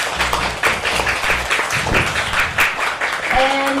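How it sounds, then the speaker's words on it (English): An awards-night audience gives the finalists a round of applause at the Pusong Pinoy Awards 2023, with sustained, fairly loud clapping and a voice speaking over it near the start. "Let's give them a round of applause."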